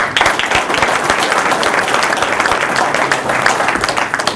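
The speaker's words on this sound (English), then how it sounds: "So a round of applause right now for my management team." Applause at a Cornwall River Kings hockey team press conference, loud sustained clapping from a gathered crowd filling the clip, close and dense with individual sharp claps standing out.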